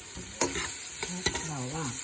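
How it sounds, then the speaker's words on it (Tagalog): Onion sautéing in a hot pan with sharp stirring scrapes and a steady sizzle, close and fairly loud, with no talk. "Gisa natin ang sibuyas"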